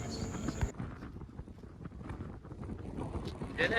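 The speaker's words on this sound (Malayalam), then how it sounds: "നല്ല കാറ്റാണ് ഇവിടെ, നടക്കാൻ പറ്റാറില്ല." Strong wind blows outdoors along a roadside on the way to Hampi, buffeting the microphone with low, uneven rumbling gusts at moderate loudness.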